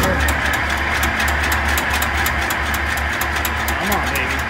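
An old Ford flathead engine in a 1932 Model A cranks on its starter with a rapid rhythmic churning and low rumble, steady and close, as someone talks over it.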